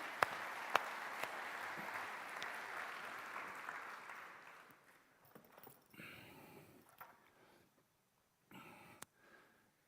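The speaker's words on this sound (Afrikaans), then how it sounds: "Kom ons gee julle hande klap." Congregation clapping hands at a church service, a broad sustained round of applause that fades after a few seconds, followed by quieter stretches with brief bursts and a voice speaking.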